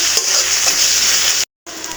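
Ginger paste sizzles and fries in a hot pan, a loud steady hiss with a brief stir, then a short silence before the sizzle returns.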